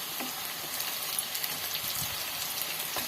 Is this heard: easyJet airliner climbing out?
no